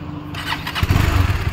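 A motorcycle engine, on a new KTM or Benelli bike, cranks briefly, then catches and settles into a loud, close, pulsing idle.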